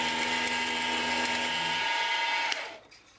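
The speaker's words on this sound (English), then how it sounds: "I'll use the rougher to remove the bulk of the material, and I'll create a bunch of step downs to make it easier for the radius tool" A milling machine roughs a steel boring head blank with an end mill, giving a steady high-pitched whine with a faint ratcheting edge. It runs loud and continuous for about two and a half seconds, then cuts off and fades.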